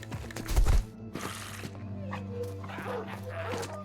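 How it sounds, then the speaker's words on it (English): Dog yelping and whimpering in the medieval strategy video game Battle Brothers, a short loud burst of barks followed by softer whines and game sounds. "That's a brave dog."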